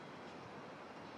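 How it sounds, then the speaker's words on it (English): A train rolls into town below a raised overpass, giving a steady, faint, broadband rumble that lasts about a second with no voices. "You can see the train coming into town."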